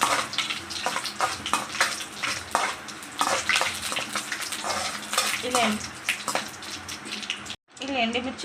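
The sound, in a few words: dried red chillies frying in oil for tempering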